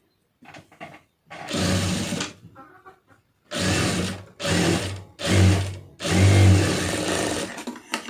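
A sewing machine stitching a blouse hem runs in several loud, close bursts of fast mechanical whirring, separated by short pauses with faint handling sounds.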